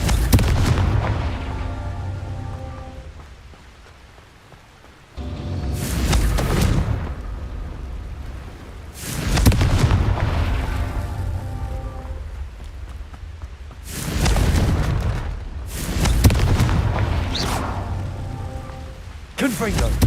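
A string of Confringo fire-spell blasts in Hogwarts Legacy rings out as about five loud, deep booms at irregular intervals, each followed by a crackling, rain-like decay over continuous game ambience.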